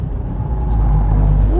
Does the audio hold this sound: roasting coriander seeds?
no